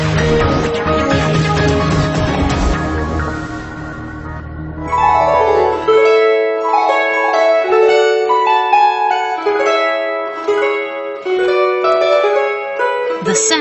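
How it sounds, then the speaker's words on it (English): Gusli, the old Russian folk zither, rings out in bright plucked strings, first dense strummed chords, then a clear cascading melody of crystalline sustained notes, close and alone with no speech. "It's the sound of Russia's oldest musical instrument,"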